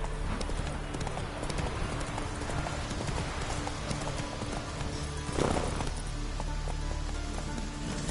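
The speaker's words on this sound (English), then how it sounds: "Run, Roach" Horse hooves pounding at a gallop in The Witcher 3, a steady rapid clip-clop over a rain-like hiss, with a brief louder thump and splash near the end.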